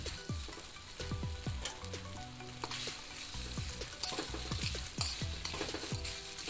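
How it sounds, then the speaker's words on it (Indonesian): Spicy meatballs being stirred with seasoning in a hot pan, a steady loud sizzle and frying crackle with repeated scraping and clinks of a utensil against the pan, no voices. "Kita aduk-aduk seperti ini agar semua bumbu-bumbunya tercampur rata di dalam pentolnya."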